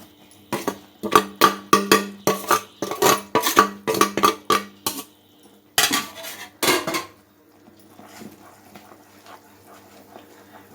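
A spoon stirring roasted ground coconut in a metal pan while making a roasted gram barfi, quick loud scraping clanks in a steady rhythm, a short pause, then another burst before quieter background noise.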